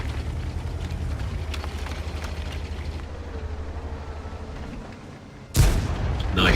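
A tank cannon shell fires in World of Tanks, one sudden loud, broadband blast near the end that follows a steady low rumble of engine and battlefield noise.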